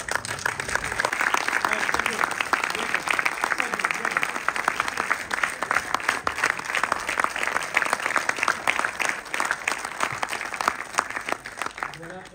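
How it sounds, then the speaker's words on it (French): An audience applauds together at a tribute ceremony, a dense, continuous wash of clapping from many hands that stays steady and fairly loud throughout, with faint voices mixed underneath. "qu'on puisse l'applaudir quand même"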